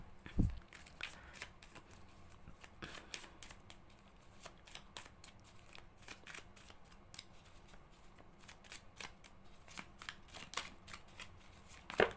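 Tarot cards shuffled by hand in a steady stream of crisp riffling snaps and soft flutters, close and fairly quiet, with no talking.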